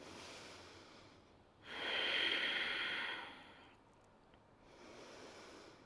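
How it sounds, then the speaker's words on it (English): Slow, steady breathing through the nose during a yoga flow, one long soft airy inhale followed by a gentle exhale, close and quiet against a faint background hush. "Breathing steadily in and out of the nose."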